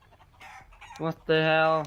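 Chickens in the video game CS:GO cluck close by in a few short, quiet calls, followed by a louder, sustained squawk, with a player's voice briefly heard.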